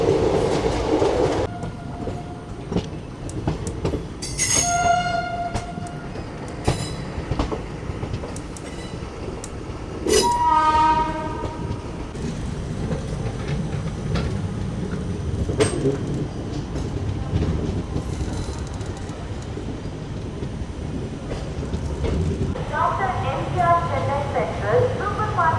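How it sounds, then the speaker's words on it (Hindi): The Hyderabad–Chennai Express rolls slowly past a train halted at a crossing, with a continuous rumble, clacking wheels and several sharp tonal squeals and horn-like bursts. Voices talk now and then beneath the rail noise. "अब एक ये ट्रेन रुकी हुई थी क्रॉसिंग के लिए तो अपन निकले हैं इसको बगल से क्रॉस करके"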